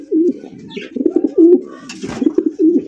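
Grizzle racer pigeons coo in repeated low rolling phrases, close and clear, with a brief rustle midway and no voices.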